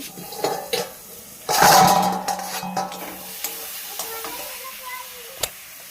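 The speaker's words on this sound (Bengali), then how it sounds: "এই দেখো, এটা সব কিছু ভাজা, এই যে ডাল।" Lentils (dal) frying in a home kitchen pan, giving a short burst of sizzling with stirring and clinks of utensil on the pan. Quieter scraping and tapping follow, with a brief cough.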